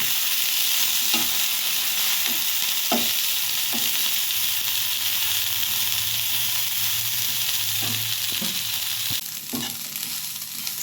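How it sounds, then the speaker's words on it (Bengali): Drumstick flowers and potatoes stir-fried in a pan, with a steady close sizzle throughout and a few soft spatula scrapes and clicks as they are mixed. "আর এটা ভালো করে মিক্স করে একটু হালকা ভেজে নেব।"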